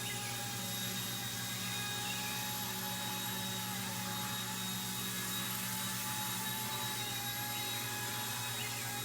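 Eachine E120 BO-105 small RC helicopter hovering and drifting, a steady high whirring rotor and motor whine held at constant pitch throughout, fairly loud and close with no voices.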